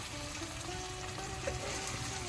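Stuffed brinjal cooking in oil over a medium flame, a steady close sizzle and frying crackle that holds evenly throughout without pause.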